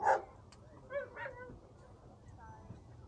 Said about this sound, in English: Dogs getting to know each other over here.